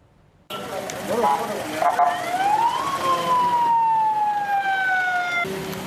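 An ambulance siren wails in a rising and falling sweep, loud and near, as the vehicle carries the body of a deputy regent to a funeral home, with steady road noise underneath.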